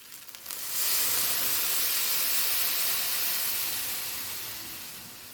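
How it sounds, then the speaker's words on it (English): Water poured onto rice frying in a hot pan for Guyanese-style shrimp fried rice bursts into a loud, sustained steaming hiss that slowly eases off. "We're going to add a little bit of water."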